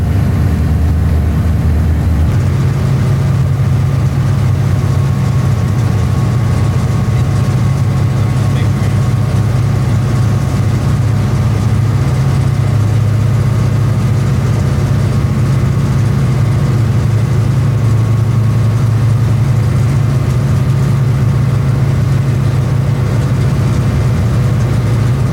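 A Bessemer & Lake Erie freight locomotive in 1990 notching up its throttle, with a loud, steady, low diesel rumble that steps up in strength early on and holds close and continuous.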